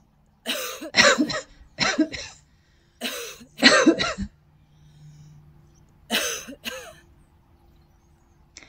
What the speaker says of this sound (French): Et toussez 3 fois pour évacuer les stagnations d'énergie au niveau respiratoire.